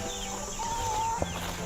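Chickens cluck on a farm during morning chores, a short steady run of soft farmyard fowl sounds with a thin whistle-like tone partway through, close and continuous with no talking.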